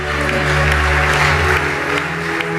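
A church congregation applauding during a healing service, steady loud clapping from a large crowd that carries through the whole stretch, with a low sustained tone underneath.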